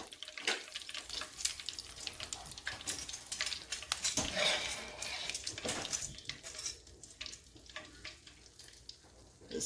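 Fish frying for escovitch fish, a soft continuous sizzle in the pan mixed with scattered clinks and scrapes of utensils, fairly quiet and close.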